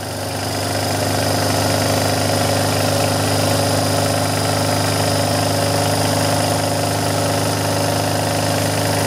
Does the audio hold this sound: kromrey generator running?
yes